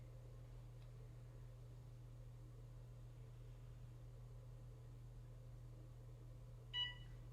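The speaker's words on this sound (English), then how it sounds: "You can hear the beep" A short electronic oven beep after pressing start to preheat to 425, near the end, clear but brief, over a steady low appliance hum in an otherwise quiet room.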